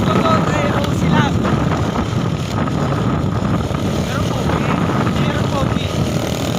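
A motorboat engine drones steadily on open water, with wind buffeting the microphone and people talking over the broadband rumble throughout.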